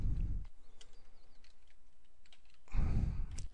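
Computer keyboard typing a title into engineering software, a few soft scattered key clicks, fairly quiet, between louder low thumps at the start and end.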